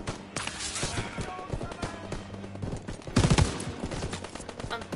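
Gunfire in the Call of Duty: WWII video game, dense overlapping rifle and machine-gun bursts crackling throughout, with a louder heavy volley near the middle, all mixed with a busy battle din.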